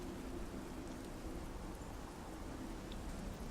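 Steady rain in a fantasy role-playing video game hisses continuously at low level, a dense even patter with no voices.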